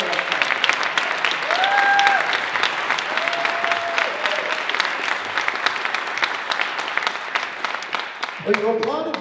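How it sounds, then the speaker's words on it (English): A festival crowd honoring Senator Patrick Leahy bursts into sustained applause, dense clapping that holds steady at full strength and continues without letup, with brief whistles or cheers rising above it near the start. "Well, you applauded before I got to say the man's name."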